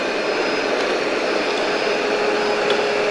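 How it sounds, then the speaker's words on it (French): An Ecovacs Deebot T30 Pro Omni robot vacuum cleans a floor with a steady, close whirring hum and a faint high whine, unbroken throughout. "il repasse aspirateur."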